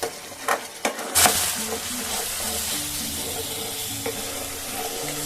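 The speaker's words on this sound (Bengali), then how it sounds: "তো আমরা যেহেতু একটু চিংড়ি মাছ দিয়ে করছি, সেই জন্য এভাবে মশলা দিয়ে কষিয়ে দেখাচ্ছি।" Prawns and spice paste sauté in a hot pan with a steady, loud sizzle, opened by a few sharp clanks of a spoon against the pan before the frying settles into a continuous hiss.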